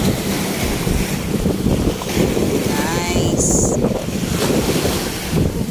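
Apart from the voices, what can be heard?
ocean waves crashing on the shore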